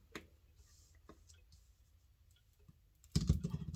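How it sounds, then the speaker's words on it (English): Tarot cards shifted about on a table, a few soft scattered clicks and light taps, then a louder burst of shuffling and sliding near the end, close up with no talk. "I just need to move my cards up a little bit more."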